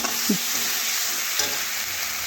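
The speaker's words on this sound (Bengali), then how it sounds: "ভেজে রাখা ডিম ও দিয়ে দিচ্ছি এর সাথে দেখুন কষিয়ে নেব" Fried country chicken eggs are tossed into a spice masala as it sautés, producing an even sizzle with a couple of quick stirring scrapes.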